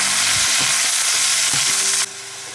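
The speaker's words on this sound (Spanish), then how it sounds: "Cuidado que no salte. Ya sabéis, lo sofreímos todo un poquito." Stuffing of hake and prawn sautés in a pan, a loud, dense sizzle with a few soft scrapes of stirring, close up, cutting off sharply near the end; no voices.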